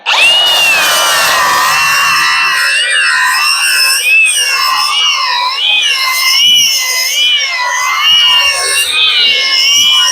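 A handheld power grinder takes the edge off fresh welds on the metal body of a 1979 work truck. Its high, loud whine wavers as the load shifts, continuous and close for the whole stretch.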